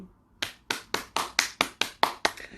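A teacher claps hands during a live online class, about eight sharp, evenly spaced claps in a steady rhythm, close and clear with no talking over them.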